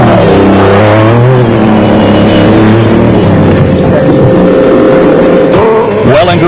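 A Kopanong Jimco special vehicle at a 2001 South African off-road race roars loud and close, its engine revving and shifting pitch steadily throughout with no pause.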